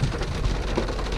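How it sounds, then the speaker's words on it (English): Heavy rain pours down steadily during a lightning storm near Panguitch Lake, Utah, a dense, loud, continuous wash of drops with low rumbling underneath and no voices. "I don't mind if it's raining. Right now it's just dumping"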